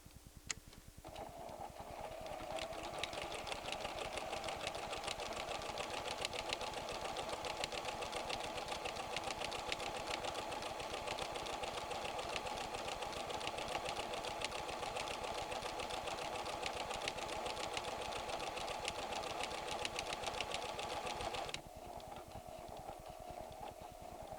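A PFAFF creative 7550 sewing machine stitches a twin-needle scallop pattern, a fast, steady mechanical rattle running continuously for about twenty seconds, close and even, then stopping.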